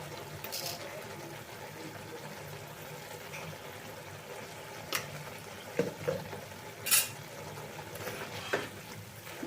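Sugar is stirred into a pumpkin greens curry with ground lentil paste as it simmers on a medium flame. A soft steady bubbling sizzle runs throughout, broken by a few sharp clinks of the spoon against the pot.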